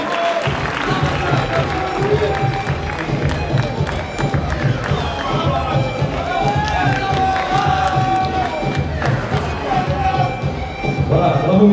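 Crowd applause and cheering for two Muay Thai fighters after their bout, with loud sustained clapping and shouts continuing throughout.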